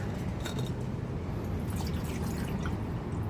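Water runs into a small dollar-store metal cup, a continuous close splashing and trickling at a steady level with no talking.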